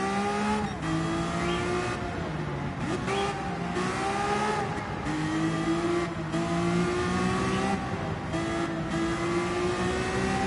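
Porsche 911 race car engine in the Gran Turismo 7 racing game, loud and continuous, revving up and down through gear changes with rising and falling pitch and brief tire squeal, other cars close behind.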